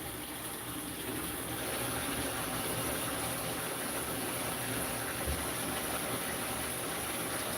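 Water gushes steadily from a tap into a bucket being readied for shipping fish, a loud, continuous broadband rush that holds level throughout with no talking.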